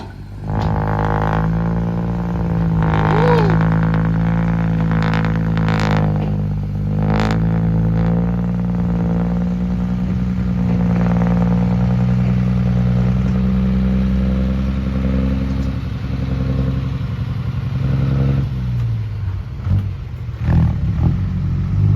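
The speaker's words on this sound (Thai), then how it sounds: "โอ้ฟังเสียงท่อดิ" A Kobelco SK200-8 excavator digging through hard, layered laterite soil, its engine exhaust a loud, steady throbbing drone that rises and swells in repeated surges as the machine strains, continuous throughout with no talk.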